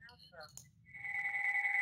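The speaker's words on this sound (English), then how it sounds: "I'm sorry, my phone is ringing there." A phone rings with a steady electronic tone that starts midway and holds to the end, following brief speech in a classroom setting.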